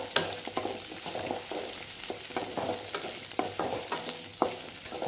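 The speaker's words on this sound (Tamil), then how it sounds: "ரெண்டு வரமிளகா கொஞ்சம் தேங்காய் இதெல்லாமே சேர்த்து நல்லா வதக்கணும்" Dried red chillies and coconut sautéing in a pan, a soft sizzle under repeated scraping stirs at an uneven rhythm, close and fairly quiet.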